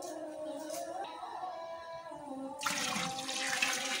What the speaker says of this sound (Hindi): 12 लीटर पानी शामिल करेंगे।